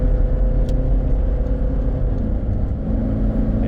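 A Toyota Hiace van's 4-cylinder turbodiesel drones with a deep, steady low rumble as it accelerates on a highway, heard from inside the cabin with constant road and engine noise.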